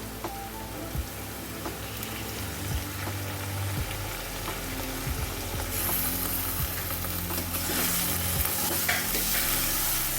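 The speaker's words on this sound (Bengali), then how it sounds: "এটাকে আমি ভালো করে কষিয়ে নেব যাতে কাঁচা জিরের গন্ধটা চলে যায়।" Turmeric, cumin paste and chili paste stir-fry in hot oil in a pan, a steady close sizzle with occasional scraping stirs and clinks, no voices.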